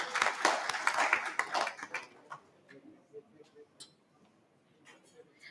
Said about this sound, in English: Can I have a round of applause